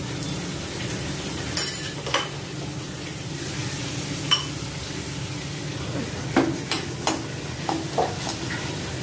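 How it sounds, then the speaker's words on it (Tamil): Finely chopped beetroot for beetroot pulao sautés in a pan, giving a steady close sizzle broken by repeated spatula scrapes and clinks against the metal. "பீட்ரூட் கொஞ்சம் நல்லா வதங்கணும்"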